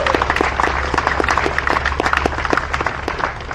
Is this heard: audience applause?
yes